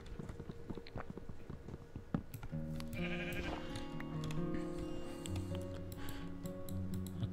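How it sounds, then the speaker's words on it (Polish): Minecraft sheep bleating near the player, several wavering calls overlapping in the second half over a busy game background of light clicks and taps. "owca płynie ze mną?"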